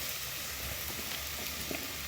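Cut mushrooms sizzling steadily in hot oil in a pan for mushroom biryani, a dense continuous hiss close by with no voices.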